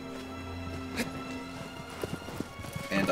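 Hooves clip-clop rhythmically as a horse gallops in the video game Shadow of the Colossus, steady moderate beats that grow busier toward the end, with game ambience beneath.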